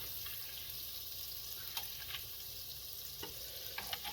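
Butter melting in a pot over medium heat, a steady soft sizzle with occasional faint stirring clicks, close and low in level.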